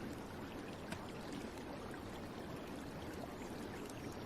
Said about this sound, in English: water murmurs over stone